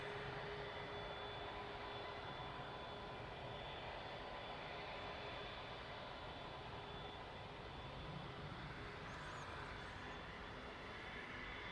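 A Ryanair jet on approach to land at East Midlands Airport makes a steady, broad engine roar that carries from a distance and holds evenly throughout.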